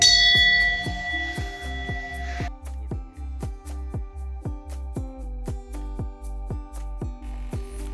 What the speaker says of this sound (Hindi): और यहाँ एक घंटा भी है, इसको आप बजा भी सकते हैं।